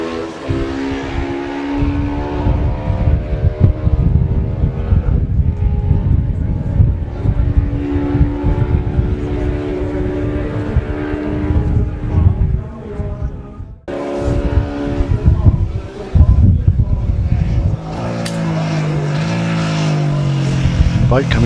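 A 350 class classic racing motorcycle roars past on the Manx Grand Prix circuit, its loud, buzzing engine note rising to a peak and then fading away, with a commentator talking over it throughout.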